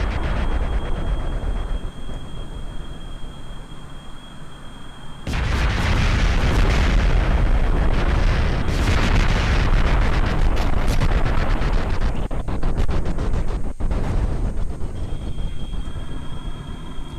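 A long chain of bombs dropped in Kerbal Space Program bursts into a loud, continuous rumbling barrage of overlapping explosions that starts abruptly after a quieter lead-in and slowly thins into scattered blasts and sharp clicks.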